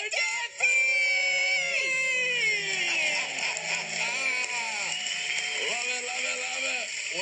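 A couple's loud, sustained celebratory scream after paying off their debt, voices overlapping in high-pitched yelling and whooping that bends and wavers for several seconds.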